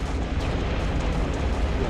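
A grenade explosion in a video game, a dense rumbling blast with crackling debris filling the short span at steady volume, no talking.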